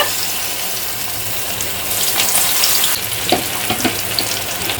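Egg pieces fry in hot oil in a kadai, a steady broadband sizzle throughout with sharper crackles and pops bursting in over the second half as pieces are added, close and fairly loud with no talking.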